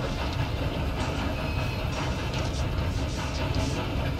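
A train runs steadily in Red Dead Redemption 2, with a continuous rolling rumble and faint rhythmic clatter of wheels over rails. It stays at an even loudness throughout and no one speaks over it.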